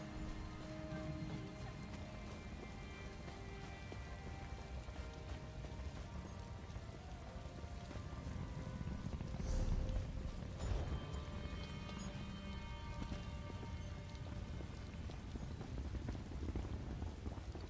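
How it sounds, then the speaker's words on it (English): Steady rain pours in The Elder Scrolls Online, a continuous even patter with a brief swell midway, heard alone without any talk. "So much rain."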